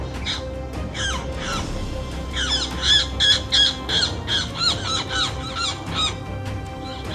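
Birds squawk loudly as a hawk attacks a Jacobin cuckoo, harsh rhythmic calls repeating in quick succession over outdoor background noise, close and prominent.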